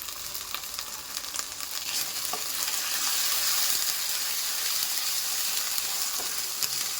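Ginger with cumin and coriander powder frying in hot oil, a steady close sizzle that swells slightly partway through and then holds, with faint stirring.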